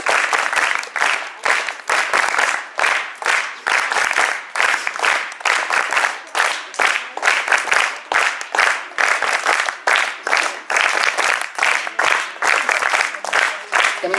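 A hall audience claps in rhythmic, steady applause to welcome a speaker to the stage at a school event, loud and sustained throughout.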